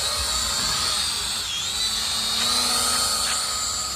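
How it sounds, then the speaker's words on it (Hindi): An E99 brushless-motor camera drone lifts off with a steady high-pitched whine of spinning propellers, constant and fairly loud, with slight pitch shifts as it climbs and hovers. "गाइस यहाँ पे हमारे E99 ड्रोन ने टेक ऑफ कर लिया"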